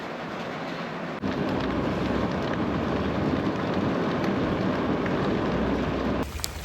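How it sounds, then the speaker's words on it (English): Heavy rain pours down in the Canadian Maritimes in a dense, steady hiss that swells louder after the first second and holds without a break; no voices. "It's pouring rain. I mean, pouring rain. A deluge."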